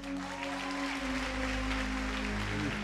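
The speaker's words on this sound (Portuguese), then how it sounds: "Batam palmas para isso." A congregation claps at a sermon, a steady wash of many hands applauding over sustained low organ or keyboard tones, continuous and moderately loud throughout.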